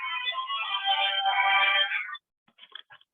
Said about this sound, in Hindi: ऑफिस से फोन आ रहा है